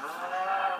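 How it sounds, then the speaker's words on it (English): A single cow moos in Minecraft Pocket Edition, one steady, drawn-out, nasal low call heard up close and alone. "and now he's killing the cows."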